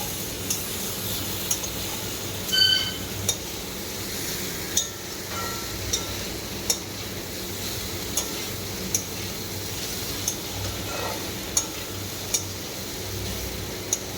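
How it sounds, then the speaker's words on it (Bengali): Potatoes and soybean chunks being stir-fried in a pan, with a spatula ticking and clinking against the metal in a steady rhythm over a soft, constant cooking hiss. "দেখো আলু দিয়ে দিলাম, সয়াবিনটাকে ভালোভাবে কষাচ্ছি।"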